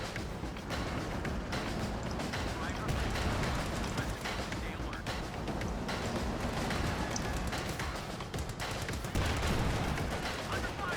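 Heavy .50 caliber machine gun fire in Company of Heroes 2, rapid dense bursts of gunfire mixed with artillery booms throughout a noisy battlefield, with a voice talking over it.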